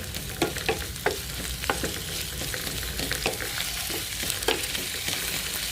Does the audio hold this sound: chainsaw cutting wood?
no